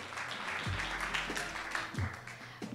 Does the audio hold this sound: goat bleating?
no